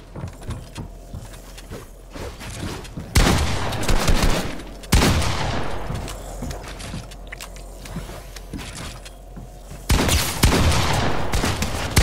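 Loud gunshots in Fortnite ring out in three heavy bursts with trailing echoes, separated by quieter stretches of game ambience and small clicks.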